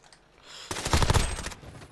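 An MP5 in Modern Warfare rattles off a short, loud automatic burst of rapid shots lasting under a second, preceded by faint quiet background.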